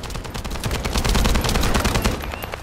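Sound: gunfire in video game The First Descendant

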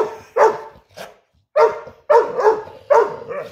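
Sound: dog barking

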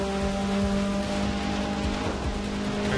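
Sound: rain in a racing video game

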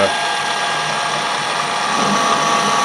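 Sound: small lathe taking a wide screw-cutting pass

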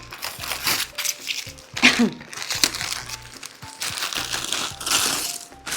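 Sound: unwrapping gift packaging during unboxing

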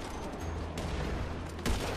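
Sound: gunfire in a video game

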